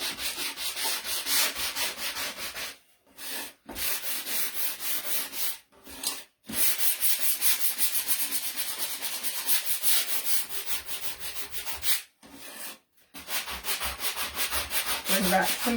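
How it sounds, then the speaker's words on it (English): A wooden Christmas sign has its edges sanded by hand, giving loud, steady rhythmic rubbing and rasping strokes close up, broken by a few short pauses. "I'm just going to mostly just sand the edges"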